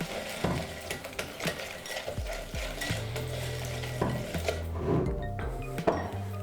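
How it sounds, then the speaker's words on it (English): Pancake batter for chocolate chip pancakes being whisked vigorously in a bowl, a fast run of scraping, clinking strokes with a few sharper knocks, fairly close, with no talking. "then you can whisk it really vigorously to get rid of all of the lumps in your batter"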